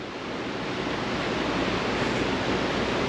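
A swollen river rushes steadily after Hurricane Nora in Puerto Vallarta, Mexico, a constant broad roar of water with wind buffeting the microphone and no break in the flow.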